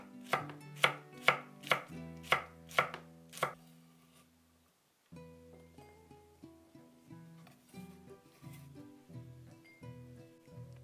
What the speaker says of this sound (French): Je coupe un piment frais en rondelles.